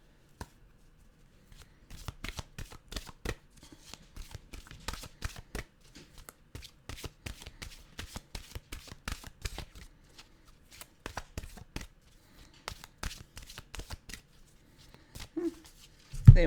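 Mantra cards shuffled by hand in a quiet room, a long series of soft, rapid riffling and slapping bursts in irregular clusters, close and fairly faint.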